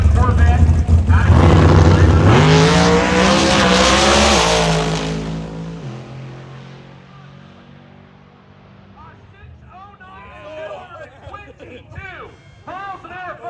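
C7 Corvette making a nitrous drag racing pass at a drag and drive event, a loud roaring engine climbing through the gears then fading into the distance, with an announcer talking over it and crowd noise returning at the end.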